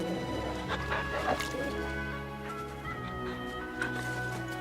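A dog barks and yips in Final Fantasy XVI, a few short sharp barks near the start and again later, heard over a steady bed of game music and ambience.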